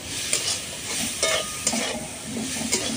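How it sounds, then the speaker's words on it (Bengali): Chicken for momo soup is stirred in a sizzling pan, with a spatula scraping in repeated strokes over a steady, close frying hiss. "এই যে আমি এটা এখন নেড়ে নিয়েছি"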